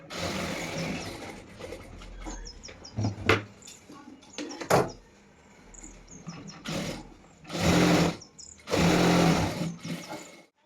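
Sewing machine stitching the hem of a ready-made dress, running in several bursts of steady whirring, the longest near the end, with short pauses and handling clicks between runs.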